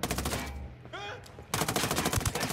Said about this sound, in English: Damn, these guys got mortars.